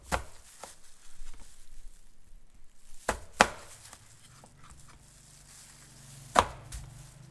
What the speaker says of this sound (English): Pound 50 grams of lemongrass.